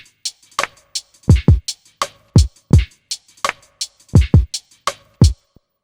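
Choppy pitched-down drum slices from an OP-Z tape track play as a boom bap pattern: punchy low thumps alternating with bright snappy hits in a steady, close, loud loop, no voices.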